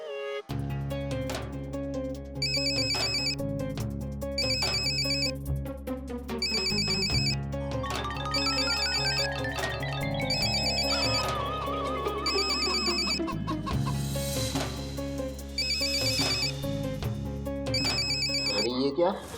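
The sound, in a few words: telephone ringing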